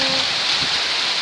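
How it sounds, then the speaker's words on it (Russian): Heavy summer rain with wind pours down in a dense, steady broadband hiss, close and loud, over a garden, with no voices. "Снова дождь, да еще какой."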